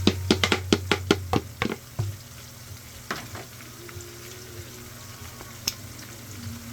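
Mashed garlic and green pepper, with carrots, frying in a pan for a Caribbean veggie sauce: a run of sharp utensil clacks and stirring up front, then a steady close sizzle with occasional knocks.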